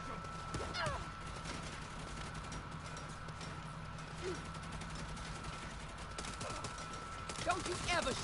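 Gunfire from the Saints Row video game, with scattered shots and rattling bursts over a steady background hum of game audio, moderately loud, with a voice talking over it.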